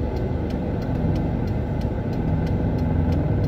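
A car engine runs steadily at low revs while a learner driver holds the clutch at its biting point, a continuous close rumble with no talk over it.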